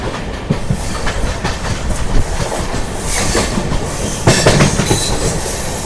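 The Amrit Bharat Express pulls out of Mancherial, its wagons rolling with a loud, continuous rumble, rhythmic clickety-clack over rail joints and occasional bursts of wheel squeal and hiss.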